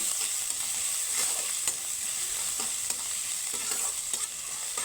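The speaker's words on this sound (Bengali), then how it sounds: "এখন দিয়ে দিব আদা আর কুচনো লঙ্কা আদা লঙ্কাটাকে একটু হালকা ভেজে নেব" Ginger and chopped green chili fry in hot oil in a pan, a continuous close sizzle with steady crackling and a few light stirring scrapes, no voices.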